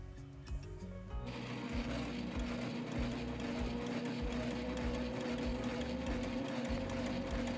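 A sewing machine stitches fabric in a steady, continuous mechanical whir with rapid needle ticking, starting after a brief quieter moment and running loud and close to the end.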